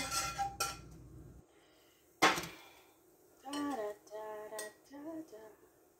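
Pasta, broccoli, peppers and onions for a tuna casserole get stirred in a bowl with a utensil, giving a few close clinks and scrapes while someone talks in between.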